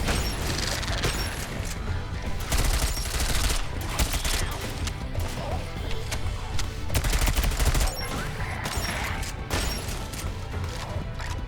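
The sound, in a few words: turret gunfire in the video game Sentry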